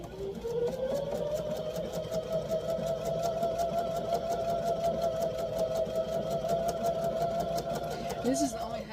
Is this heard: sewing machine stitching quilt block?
yes